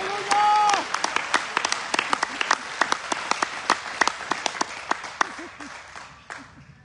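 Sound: congregation applauding loudly

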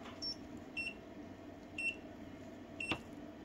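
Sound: Wanptek power supply overcurrent protection alarm beeping

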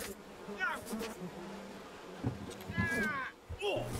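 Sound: bees buzzing in video game We Happy Few

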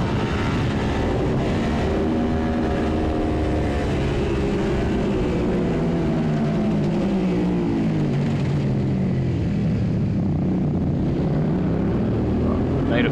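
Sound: Suzuki SV650 race motorcycle on track at Mallory Park

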